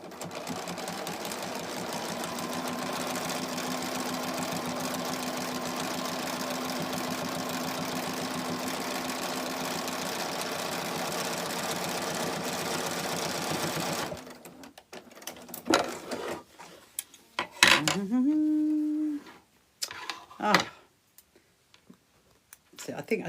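A sewing machine stitching for about fourteen seconds, a steady, fast, close mechanical whirr, then stopping and giving way to handling clatter and short bursts.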